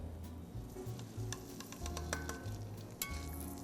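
Two pieces of food sizzle and pop in a skillet, seasoned with Tony Chachere's Creole seasoning, giving a steady close frying hiss with scattered sharp pops and crackles throughout.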